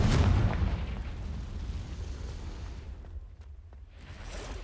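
A spell blast from the Hogwarts Legacy video game erupts with a heavy boom at the start, then a low rumbling tail slowly decays into quieter game ambience with faint clicks.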